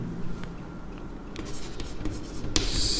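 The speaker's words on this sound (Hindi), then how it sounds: "तो मैं लिखता हूं" Pen writing on paper, close and faint, with short scratchy strokes and small taps running in an uneven rhythm, and no speech over it.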